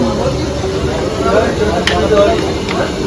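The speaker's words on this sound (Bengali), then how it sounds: "এখানে ফিশ ব্যাটার ফ্রাই করা হচ্ছে" Battered fish frying in hot oil gives a steady, dense sizzle and hiss amid the bustle of a busy outdoor wedding-day kitchen, with voices chattering throughout.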